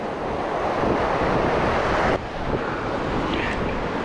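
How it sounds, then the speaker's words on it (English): Ocean waves and wind buffeting a microphone on a rocky shoreline while lure fishing, a loud continuous roar of surf with wind rumble and a brief dip partway through. "Hopefully it's not too noisy this with these waves and the wind and stuff"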